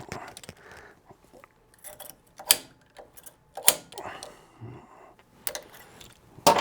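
Safety wire being handled and twisted on a motorcycle front titanium axle on a 2008-or-later bagger: sharp metallic ticks, clicks and scrapes in scattered bursts, close by, with brief gaps between.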